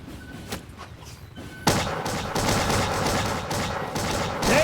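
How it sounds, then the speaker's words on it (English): A cannon shot in a Bannerlord Empires of Europe 1700 musket-era battle lands as a sudden loud boom, followed by a dense, continuous roar of gunfire and battle noise. "That must have been a cannon shot"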